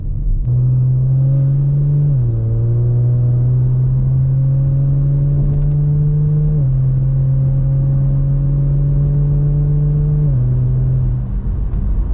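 A modified Kia Stinger engine pulling hard while driving: a loud, steady drone that climbs in pitch, with brief dips at each upshift, close and continuous.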